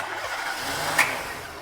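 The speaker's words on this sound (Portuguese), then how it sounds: "vamos ligar o carro" A car engine starts in a workshop, a brief crank burst rising from a broad, steady rumble of the running motor, fairly loud and close with no talking.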